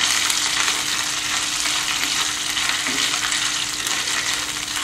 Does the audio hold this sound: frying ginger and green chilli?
yes